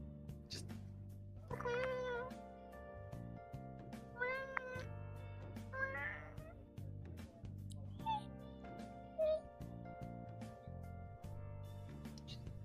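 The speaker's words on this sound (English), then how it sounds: "Kitty noises." A cat meows repeatedly in short rising cries, spaced a second or two apart, close and clear over a quiet background of soft tones.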